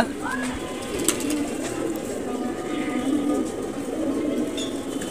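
Soft, low cooing from domestic pigeons after release, repeating close by over steady outdoor background noise while someone talks in Bengali.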